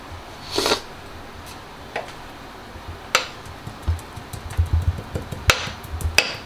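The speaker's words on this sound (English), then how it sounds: "You hold it on the end and you dice it, just like you're cooking." A knife taps and chops shisha tobacco directly on a hard surface in quick, uneven strokes, close by, with a few louder knocks along the way.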